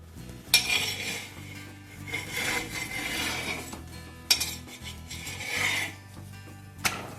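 A fenugreek jowar roti is turned on a hot pan, with scraping rubs, a faint sizzle, and three sharp clacks as the roti is flipped.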